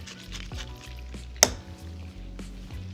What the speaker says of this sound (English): Lemon juice goes in.